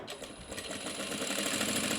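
A sewing machine runs steadily, stitching a fabric tote bag with continuous rapid, even clatter at close range, and no one speaks.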